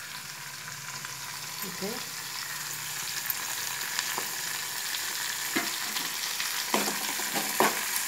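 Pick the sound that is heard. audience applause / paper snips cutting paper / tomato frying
tomato frying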